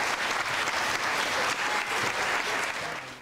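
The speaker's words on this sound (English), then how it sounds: "Let's give them a round of applause." Enthusiastic audience applause, a dense wash of many hands clapping at once, steady and loud before tapering off at the end.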